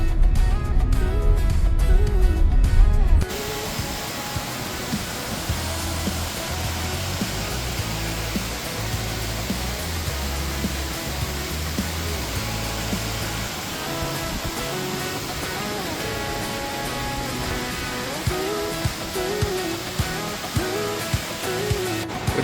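Fast-flowing stream of water rushing in heavy rain at Ambanad, a loud, steady broadband roar that continues throughout, with a brief louder burst at the start.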